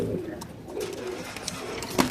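Racing pigeons in a cage coo softly at close range, a few low throaty calls repeating over faint background noise.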